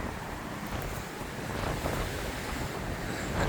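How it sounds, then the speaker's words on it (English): Strong gusts during a Reno windstorm roar and buffet the microphone in a dense, continuous rush that swells slightly toward the end, with no voices. "Oh my goodness, it's windy."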